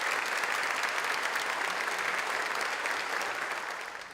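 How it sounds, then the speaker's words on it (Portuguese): A large gathering at a Rio de Janeiro city council ceremony gives a standing ovation, dense steady applause filling the whole stretch at full strength before easing slightly at the end. "Foi aplaudida de pé."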